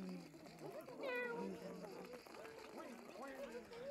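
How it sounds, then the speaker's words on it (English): A cartoon cat meows when clicked in the hidden-object game Doodle Streets, with a couple of short rising and falling cries, mixed with a voice talking at the same time. "because he's not afraid when I click the cat and it meowed"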